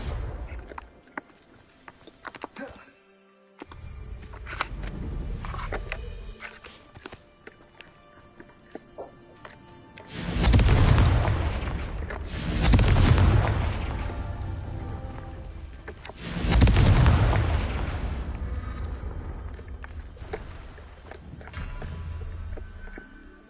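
Three loud, booming blasts of the Confringo curse go off in a Harry Potter video game, each a few seconds apart. Scattered clicks and rumbling game noise fill the gaps between them.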